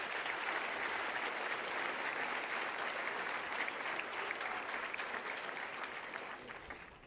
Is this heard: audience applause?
yes